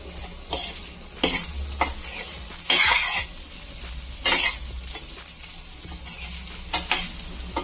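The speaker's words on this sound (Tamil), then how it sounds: "கொத்தமல்லி போட்டு நம்ம மிக்ஸ் பண்ணிவிட்டு" Paneer fried rice with coriander being stirred in a pan at home, a spatula scraping and clinking in repeated strokes over a soft steady sizzle, close and fairly loud, no talking.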